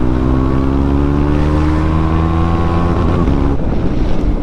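A KTM Adventure 390 motorcycle engine fitted with a BMC air filter drones loudly and close with a strong, steady harmonic tone that dips in pitch as the revs drop near the end, with no voices.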